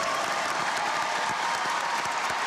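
A large crowd applauding a finalist at a spelling bee final, dense sustained clapping filling the hall evenly, loud and continuous from start to finish.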